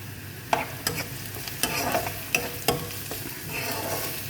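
Shrimp roll filling of cabbage, potato and shrimp fries lightly in a pan, a steady soft sizzle broken by sharp scraping and clinking stirs of a utensil against the pan at uneven intervals, close up with no talking.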